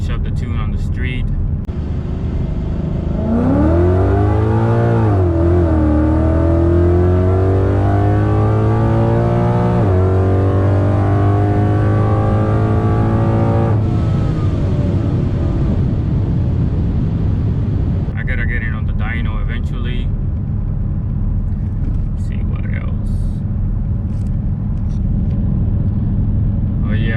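A 2017 Mustang fitted with a Circle D 4C torque converter drives on the street, its engine loud and close, revving and rising in pitch through gears, then settling into a steady drone, with talk over parts of it.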